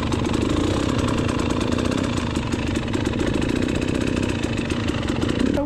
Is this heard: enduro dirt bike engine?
yes